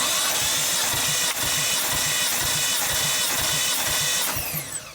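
An engine is cranked over on the starter during a cylinder compression test on a JDM import car: a loud, rhythmic chugging of evenly spaced compression pulses that slows and fades as cranking stops near the end.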